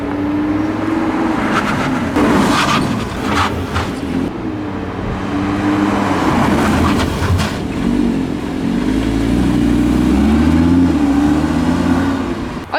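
A car drives on worn tyres, down to 1.6 mm of tread, during emergency braking tests, with a steady engine and road roar that surges and eases throughout.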